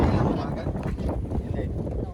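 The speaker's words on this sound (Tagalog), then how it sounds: "Hindi, malakas siguro pa yung hangin." Strong wind buffets the microphone at an RC plane flying field, giving a constant loud low rumble and roar with gusty swells. Voices are faintly audible underneath.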